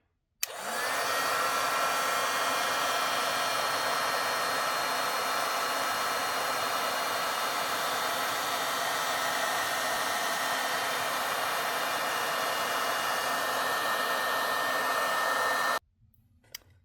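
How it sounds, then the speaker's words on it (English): A heat tool blows a steady, loud airy whoosh while heat-setting embossing powder for a crafting panel, running continuously for about fifteen seconds before switching off abruptly. "I've got my heat tool,"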